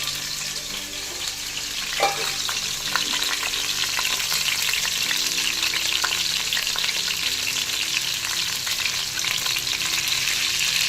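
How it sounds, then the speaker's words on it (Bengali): Bitter gourd fries in oil for Bengali shukto, a loud, continuous close sizzle with crackling spatters and an occasional stirring scrape. "আমি এই উচ্ছেটা ভাজবো শুক্তোর জন্য"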